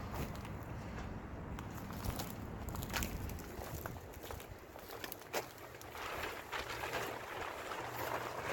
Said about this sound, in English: It's pretty windy, man.